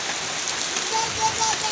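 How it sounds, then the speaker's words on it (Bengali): Morning rain falls steadily on surfaces outdoors near a jackfruit tree, a continuous close hiss of drops with a faint repeated tone in the background. "অনেক সুন্দর বৃষ্টি পড়তেছে"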